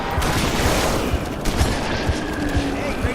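Rapid, loud gunfire bursts from a Halo 3 battle, with repeated booming shots over a dense, noisy combat backdrop. The picture cannot confirm a shotgun specifically.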